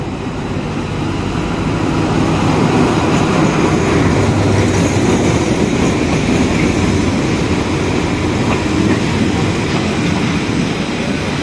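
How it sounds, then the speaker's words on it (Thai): Passenger train 302 hauled by an Alsthom locomotive, number 4411, rolls into Bang Sue Junction station with a loud, sustained rumble and rattle of cars passing close by, no talk over it. "ขบวน302มาแล้วนะเป็นหัวจักรอันสตอมนะครับทำขบวน"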